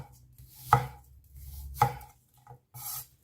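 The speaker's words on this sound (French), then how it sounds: "coupez l'oignon en morceaux" A knife chopping an onion into pieces on a board gives two sharp, close thuds with a few quieter taps after them, all in a quiet kitchen with no talking.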